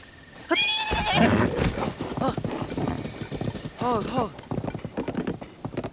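Horses whinny and neigh repeatedly while hooves clip-clop in Zelda: Tears of the Kingdom, a busy herd sound layered under someone talking over most of it.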